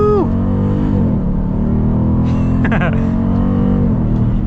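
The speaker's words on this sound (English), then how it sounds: "Gotta love the sound of that Hemi." Hemi V8 of a 2023 Dodge Durango SRT 392 SUV revving loud and close while driving, a steady low engine roar with a brief rising rev partway through, heard from inside over road noise.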